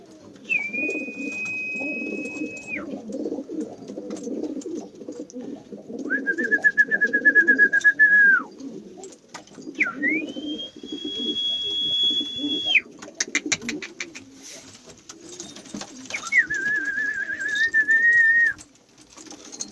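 Syrian pigeons coo and call close by, repeated calls standing out over a low, busy background of other birds.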